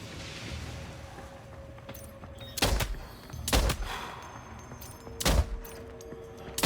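Gunfire from the video game Death Stranding 2, heard as three or four separate loud bursts spaced about a second apart over a low, steady background hum.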